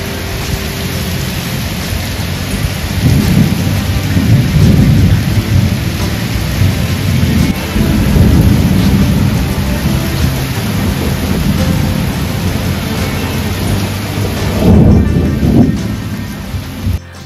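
Heavy rain pours steadily over a rooftop with deep rolls of thunder swelling and fading, a loud, dense wash of noise that continues throughout with no voices.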